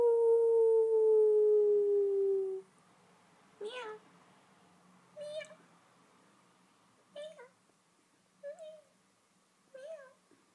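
A tortoiseshell Sphynx kitten meows five times in short, separate calls spread across several seconds, following a steady electronic tone at the start.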